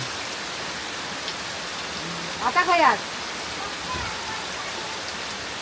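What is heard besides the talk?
rain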